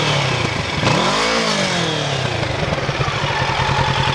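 A Kawasaki Z650 motorcycle with an aftermarket exhaust revs hard, pitch sweeping up and falling back before settling into a throbbing idle, close by.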